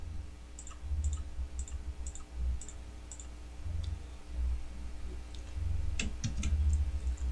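Mouse buttons click on encrypt and copy controls, a series of small, quiet, crisp clicks in short runs over a low steady hum, close by with no talking.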